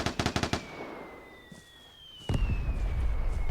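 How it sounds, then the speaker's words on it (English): Mortar strikes exploding in the online survival shooter Vigor: a quick rattle of sharp blasts at the start, then a heavy rumbling impact later, with a whistling tone between them. "That's 2 mortar strikes."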